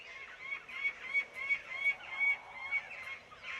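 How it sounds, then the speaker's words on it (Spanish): Jackdaws calling from a cliff cut in open steppe, a series of sharp, repeated chack-like calls from several birds, moderately distant and faint against quiet outdoor air. "Hay otros gárrulos habitantes en la cortadura que constituye un ecosistema típico de la estepa. Me refiero a las grajillas"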